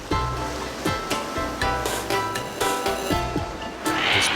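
Surf washing onto an Australian island shore where sea lions come in on the waves, a steady broadband roar with repeated swells building and breaking close by, no voices.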